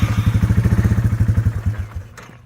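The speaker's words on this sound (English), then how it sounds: "Engine start." A Yamaha Timberwolf four-wheeler ATV engine turns over and catches, giving a close, rapid chugging putter that slows and fades out after about two seconds.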